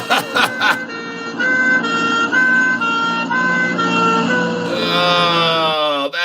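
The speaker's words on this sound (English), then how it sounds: "Here's a fire truck sound." A fire truck siren plays through a smart speaker, loud and close, with a blaring horn-like wail holding steady pitches and then sliding upward, after brief clicks at the start.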